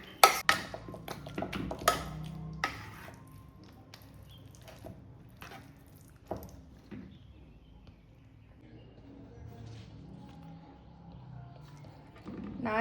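Cooked lentils from a pressure cooker being mashed with a utensil, heard as a cluster of sharp clinks and taps on the pot at first, then sparse soft knocks and quiet squelching in a calm kitchen.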